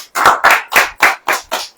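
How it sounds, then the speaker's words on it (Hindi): A church congregation at a Hindi sermon by Brother Rohit Massey claps in a slow, even rhythm, six loud, close, distinct claps about a quarter second apart. "ताली नहीं बजाएंगे?"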